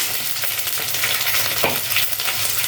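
Green chilies and shallots frying in a pan, giving a loud, dense, unbroken sizzle with faint stirring movement and no speech.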